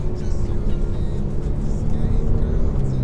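A Ferrari F8 Tributo cruises along with a low, smooth engine drone and steady road rumble, heard from inside the car, with no sharp revving.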